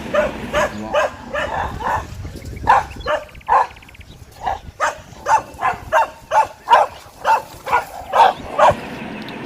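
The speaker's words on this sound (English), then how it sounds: "this is white and black spot dog" A white and black spotted dog barks in a steady series of sharp, close, loud woofs, about a dozen spaced evenly across the stretch, with no talking over them.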